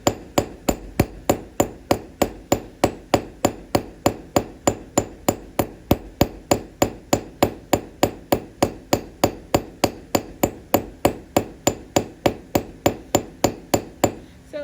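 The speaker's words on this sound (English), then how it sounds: "I can see where I need to hammer again, so I can see the bumps." Hand hammer blows on forged metal over an anvil, smoothing out bumps: a long, steady series of sharp ringing strikes at an even rhythm of about three per second, loud and close, with no talk.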